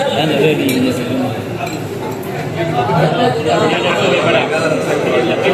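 Spoons and cutlery clink against dishes at a wedding meal, scattered light chinks under constant lively chatter and nearby voices.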